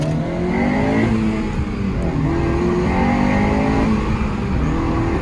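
Honda Civic FN2 Type R engine pulling hard in third gear, its revs repeatedly rising and settling across several short climbs, loud and close from inside the cabin.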